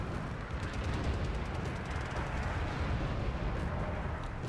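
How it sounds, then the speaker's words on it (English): Artillery and mortar explosions in the Wargame Red Dragon strategy game form a steady, distant rumble of overlapping blasts and crackling fire, faint and continuous with no clear single hits. "They're getting stunned by the mortars."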